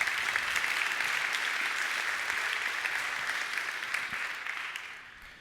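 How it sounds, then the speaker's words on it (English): An audience at a startup demo day applauds a founder: dense, sustained clapping from a crowd, steady and loud throughout before tapering off at the end. "Put a round of applause for Peter."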